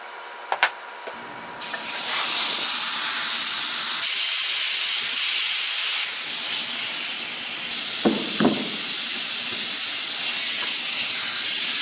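Air hisses steadily as a pressure pot holding epoxy-cast wasp nests and gum balls is pressurized, a broadband rush that starts after a few faint knocks and continues at a fairly constant level with small surges and two brief clicks.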